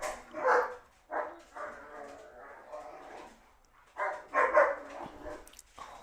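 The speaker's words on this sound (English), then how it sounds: "Let me check on these dogs." Several dogs bark in bursts, with yips and whimpers, fairly close and loud. The barking comes in two main clusters separated by quieter stretches.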